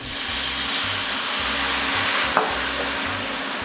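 A shrimp scampi pan with its fond at the bottom is deglazed with white wine, giving a loud, continuous close-up sizzle and hiss with a brief scrape of stirring partway through, no talking.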